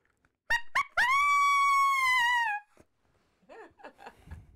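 A turkey hunter's coyote howler call imitates a coyote: two sharp yips, then one long, loud howl that slowly falls in pitch, followed by faint wavering sounds.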